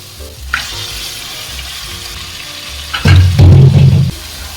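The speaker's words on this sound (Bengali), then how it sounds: "এই সময় ম্যারিনেট করা চিকেনটা দিয়ে দেবো" Marinated chicken dropped into hot spiced oil for a chicken curry, a loud close sizzle and stirring that flares sharply near the end, with no voices.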